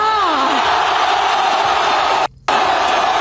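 Dense crowd roar at a political rally, many voices shouting and cheering together at a loud steady level, with a rising whoop early on and a very brief drop to near silence partway through.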